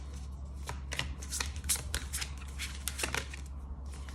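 Tarot cards being shuffled by hand make a steady run of crisp riffling and flicking bursts, close and fairly quiet over a constant low hum, with no talking.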